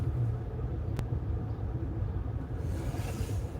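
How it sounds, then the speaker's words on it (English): Low, steady engine rumble from a car riding rough, a continuous droning hum with a brief click near the start and a faint hiss building toward the end. "Why my car just start riding rough?"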